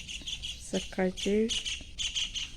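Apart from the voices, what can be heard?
birds chirping in the morning after rain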